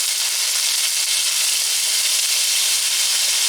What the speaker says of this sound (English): the onion that I diced had been previously frozen, so this is going to cook in probably 60 seconds